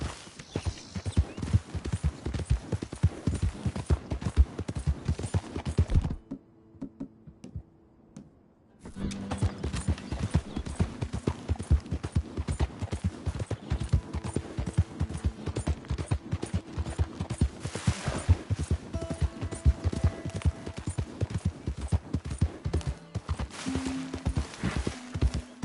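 Steady clip-clop of horse hooves on hard ground in Red Dead Redemption, close and rhythmic, with a brief pause partway through before the trotting resumes amid faint creaks and ambient tones.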